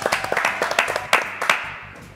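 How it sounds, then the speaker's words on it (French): A small audience at a French comedy show gives short, scattered applause, individual claps clearly separated and fading out after about two seconds. "On l'applaudit?"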